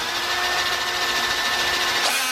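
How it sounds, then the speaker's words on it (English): A power drill with a clutch bores steadily during handlebar installation on a Sur Ron Light Bee electric bike, a loud continuous whine that shifts pitch briefly near the end. "I think we gotta drill a little more"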